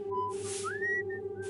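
Eerie whistling in a dim basement horror scene, a clear tonal whistle with rising and sliding pitches over a steady low hum, close and distinct with bursts of hiss.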